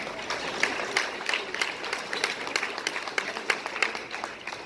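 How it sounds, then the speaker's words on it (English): A modest round of applause rises at an evening community meeting, many hands clapping at once, fairly faint and uneven, steady across a few seconds. "Let's give them all a round of applause."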